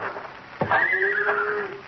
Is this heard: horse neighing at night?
yes